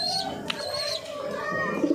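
A pigeon coos softly and repeatedly, close by, with a faint background hum and no other sounds.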